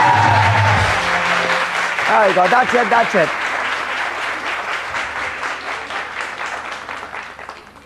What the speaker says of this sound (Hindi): इनके लिए बहुत सारी तालियां, बहुत सारी.